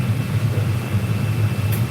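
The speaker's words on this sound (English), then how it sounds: "I know the exhaust fan's loud" Loud kitchen exhaust fan running in a home kitchen, a constant low roaring hum with a steady airy hiss, close and continuous through the whole stretch without pauses or voices.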